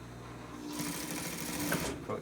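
An electric sewing machine runs steadily while stitching a 5 by 8 tarp, a dense rapid whirring that starts partway in and holds at a close, moderate level, with faint talk underneath.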